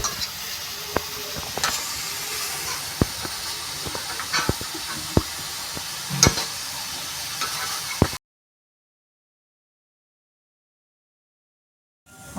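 Purple yam frying in hot oil gives a steady hiss scattered with sharp crackles and pops for about eight seconds, then cuts off into silence with a brief rustle at the very end.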